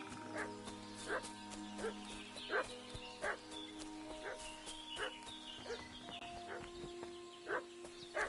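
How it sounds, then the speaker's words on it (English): A dog barks repeatedly in a village setting in the medieval video game Kingdom Come: Deliverance II, a series of clear, evenly spaced barks at moderate distance over quiet ambient background and soft game music. "What's that dog making such a fuss about?"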